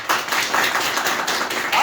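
An audience claps together in a brief burst of applause, steady and fairly loud for a couple of seconds, with some voice mixed in.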